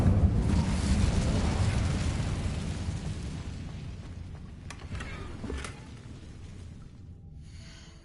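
An Incendio fire spell cast in Hogwarts Legacy, heard as a broad roaring whoosh of flame that starts loud and slowly fades away over several seconds, with a few faint crackles near the end and no voices.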